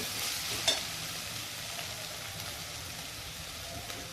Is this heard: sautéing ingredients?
yes